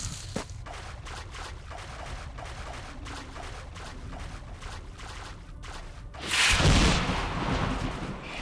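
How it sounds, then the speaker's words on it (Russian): Fireworks in the video game S.T.A.L.K.E.R.: Lost Alpha: deep rumbling booms and crackling bursts roll through a noisy game scene, with one bright, loud explosion flaring up near the end. "Фейерверк."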